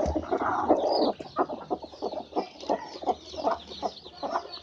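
A brooding hen sitting on a clutch of eggs gives a rapid run of soft, close clucks, repeated in an uneven rhythm over a low background hum.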